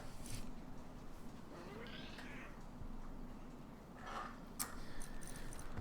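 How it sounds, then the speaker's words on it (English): A cat meowing inside a video game, faint drawn-out calls buried in a busy, noisy game background with a few sharp clicks. "Cat."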